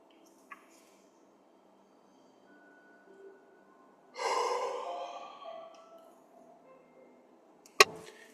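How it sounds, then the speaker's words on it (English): A slow deliberate exhale by one person, a broad breathy rush swelling for about two seconds then tapering off, heard close and alone in a quiet room, with a faint click just before and a sharp tap afterward. "I'm going to breathe it out"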